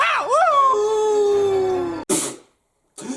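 A cartoon dog from the animated 101 Dalmatians series lets out a long, wavering howl that slowly sinks in pitch, then gives two short sharp yips after a brief silence.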